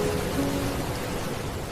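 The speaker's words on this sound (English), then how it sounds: "Rain dripped softly from the edge of your hood." Soft rain dripping steadily from a hood's edge by a seaside lighthouse, a continuous even patter blended with the low rolling wash of ocean waves, with no voices.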